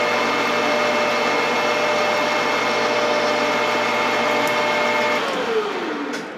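A Grizzly G4003 gear-head lathe runs steadily in threading mode, cutting 28 threads per inch, giving a continuous close mechanical whine and hum with a falling tone near the end as it slows.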